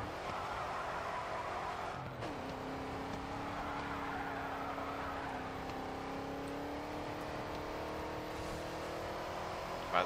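A race car in GRID 2 holds a steady, droning engine note through a long drift, with a faint tire skid hiss underneath. The pitch dips briefly, then runs on at an even level for about ten seconds, with no voices.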